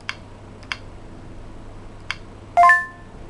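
Sharp key presses on a Motorola MC65 handheld terminal, four quiet separate clicks spaced irregularly over a faint background hum, followed by a short electronic tone.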